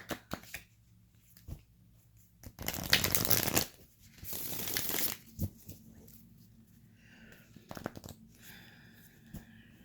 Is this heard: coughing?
no